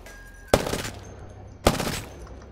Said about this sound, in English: it's a 5-shot weapon burst